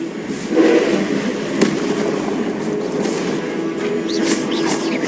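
Confringo blasting spells from Hogwarts Legacy crackle and pop like fireworks, a burst near the start and another mid-way, then sputtering sparkle-like crackles over a steady background din.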